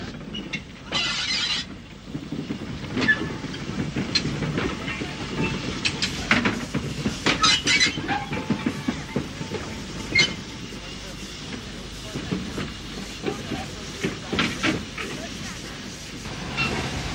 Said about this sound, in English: 8F number 84418 is followed by modified Hall Class 460 number 6934 Beechamwell Hall along the centre road between two of the platforms.